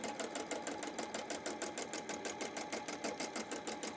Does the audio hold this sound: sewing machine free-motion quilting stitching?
yes